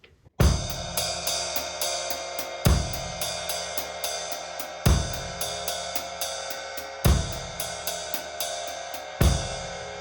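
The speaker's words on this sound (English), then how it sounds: "Okay, so again, we want to put the bass drum on beats 1 and 3." Drum kit groove of ride cymbal and hi-hat with the bass drum thumping on beats one and three, regular low kicks under a steady bright cymbal pattern, close and alone.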